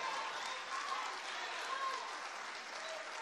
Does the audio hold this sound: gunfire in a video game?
no